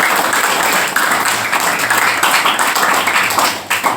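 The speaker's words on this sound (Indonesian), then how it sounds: "Tepuk tangan dong." Loud, dense hand clapping from a gathering at a pesantren (Islamic boarding school) in Depok, steady and close throughout, with a brief dip near the end.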